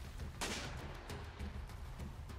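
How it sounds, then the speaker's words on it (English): A ship's cannon fires once in the Sail Forth pirate naval battle game: a single sharp broadband boom with a short decaying tail, followed by fainter distant thumps over a steady low rumble of sea and wind. "Where did that cannon just shoot?"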